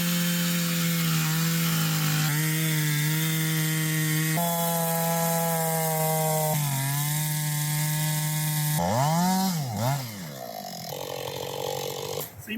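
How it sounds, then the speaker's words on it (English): A chainsaw cuts the end off a log during milling with an Alaskan chainsaw mill, a steady buzzing whine that drops in pitch in stages as it bogs into the wood, then revs and wavers near the end. "Let's get the end of this log cut off and let's give it a shot."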